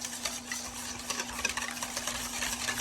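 Pumpkin spice waffle batter with milk and melted butter being stirred in a bowl, a steady close scraping and swishing that runs continuously, with a faint constant hum underneath.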